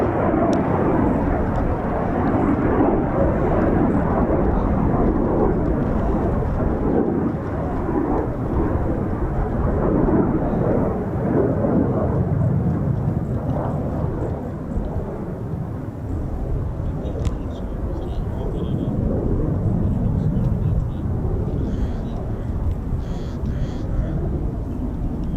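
Eurofighter Typhoon jet approaching to land at RAF Coningsby, a sustained low rumbling roar lasting the whole stretch, loud and steady with only slight dips in level.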